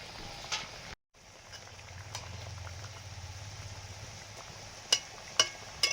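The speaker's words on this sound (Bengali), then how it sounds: "টমেটো কুচি, ঝোল ফুটে গেছে, মাছ দিয়ে দিচ্ছি।" Fish curry broth with chopped tomato bubbling steadily in a pot, a low continuous simmering burble with a few brief clinks near the end, quiet and close with no voices.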